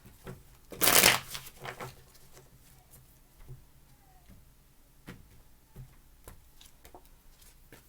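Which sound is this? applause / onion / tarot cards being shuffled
tarot cards being shuffled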